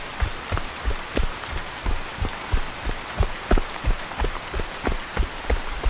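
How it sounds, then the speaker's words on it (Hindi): Dense, steady rain hiss with rapid irregular drops and patters striking a surface, continuous and fairly close throughout, with no voices. "बाहर काफी तेज बारिश हो रही थी।"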